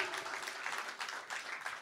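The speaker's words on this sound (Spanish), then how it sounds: "¿Qué tal si le damos un aplauso?" A church congregation applauding during a worship service, a steady wash of many hands clapping at moderate distance, fairly soft and even across a couple of seconds with no voices standing out.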